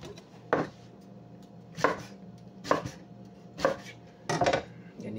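A knife chops vegetables for kimchi on a cutting board, five distinct, evenly spaced thuds close by with a faint background hum between strokes.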